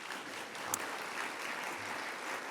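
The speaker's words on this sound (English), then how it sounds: "Let's give them a round of applause." Steady applause from an event audience, a dense even wash of clapping held at moderate level throughout, with no voices over it.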